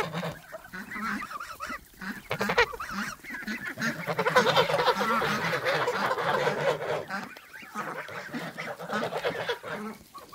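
Flock of farmyard ducks walking together, a near, lively run of overlapping honks and quacks rising and falling throughout with no voice heard.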